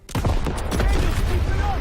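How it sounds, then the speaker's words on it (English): Rapid gunfire fills a World War II battle video game as shots hit ammo caches near a Pak 38 gun, a dense, loud fusillade of overlapping bursts. Game noise runs continuously beneath. "Daniel, shoot the ammo caches around the pack 38."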